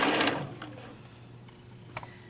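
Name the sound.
sewing machine stitching quilt fabric strips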